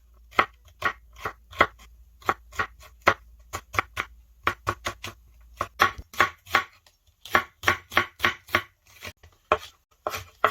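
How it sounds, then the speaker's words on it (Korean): A knife slices celery stalks diagonally on a cutting board in quick, crisp chops, close and clear, in irregular bursts with short pauses and no talking. "샐러리를 어슷어슷하게 썰어줍니다."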